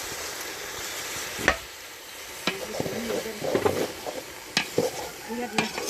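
Eggplant and dried fish sizzle in a pan after water is poured in, a steady hiss broken by several sharp stirring scrapes and clinks close by, with no talk.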